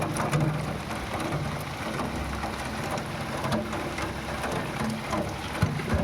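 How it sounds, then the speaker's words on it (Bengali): Rain falls close by around a makeshift shelter, a loud continuous patter with scattered heavier drops and a faint low rumble underneath. "এই যে বৃষ্টির জলগুলো পড়ছে"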